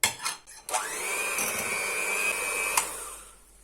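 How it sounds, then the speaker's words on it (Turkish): An electric hand mixer whirs steadily at high speed for a few seconds, whisking a semolina, milk and biscuit dessert mixture with added oil, starting and stopping abruptly with no talk. "Şimdi mikserde tekrar çırpacağım bunu."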